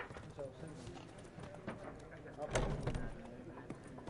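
Horse hooves clip-clopping in The Witcher 3, a rhythmic clatter of steps under people talking over it, growing louder toward the end.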